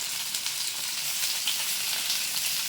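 Fish pieces frying in hot oil give a steady, close, bright sizzle with no talk, unbroken for the whole short stretch.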